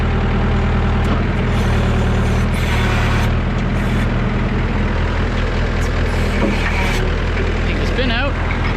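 A Massey Ferguson 3165 tractor stuck up to its axles in mud labors as its loader bucket pushes to haul it forward, the diesel engine droning loud and steady throughout, with a brief rising whine near the end.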